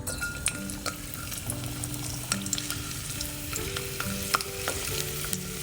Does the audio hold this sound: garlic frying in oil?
yes